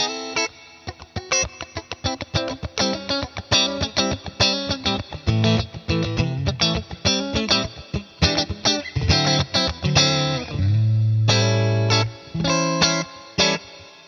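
Bright, slightly distorted Eart NKC3 electric guitar with combined pickups giving a Strat-like tone, played as a busy run of picked notes and chords, ending on a sustained ringing chord, with reverb.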